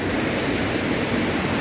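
A river flows along its bank, heard as a steady, broadband rushing of water with no gaps or other sounds.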